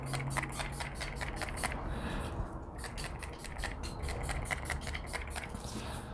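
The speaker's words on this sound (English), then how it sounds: "And I just spray it, shake it up," A CoverGirl Outlast Active Cooling setting mist is sprayed in quick rhythmic pumps, two faint bursts of rapid hissing puffs separated by a brief pause.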